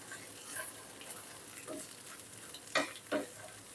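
Glass noodles with egg, cabbage and wood ear mushrooms stir-fried in a pan, a soft sizzle broken by scraping and tossing strokes, two sharper scrapes near the end.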